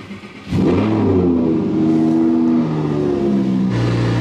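An Audi R8 engine cold-starting: a sharp loud bark of ignition, then a sustained high idle with steady tonal engine harmonics that drop slightly near the end, close by and without talk.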